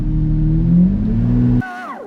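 A Lamborghini reverses with a loud, steady engine note and a rising rev for about a second and a half, then the engine cuts off abruptly, leaving a brief quieter tail.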